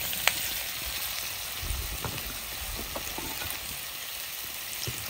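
Cut sweet potato pieces frying in a hot pan of mustard seed and urad dal tempering, a steady close sizzle and crackle with a few sharp pops, no talk.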